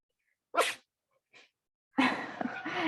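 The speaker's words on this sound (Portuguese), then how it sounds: "Ah, espirrando." A person sneezes in a sharp, close burst out of silence. A brief soft sound follows, then a longer, louder burst of noise about a second later.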